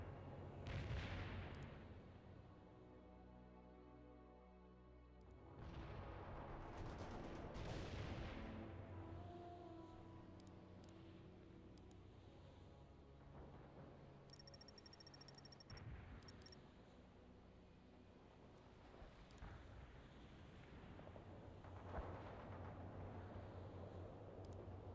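Distant gunfire and heavy booms in World in Conflict, faint thuds and cracks scattered across a long quiet stretch of battlefield ambience.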